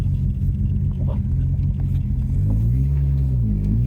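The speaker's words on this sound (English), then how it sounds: "That's okay, that's the exhaust." The exhaust of a cold Ford Mustang SVO rumbles close by in a loud, continuous, deep drone, and the pitch rises and wavers slightly near the end as the revs change.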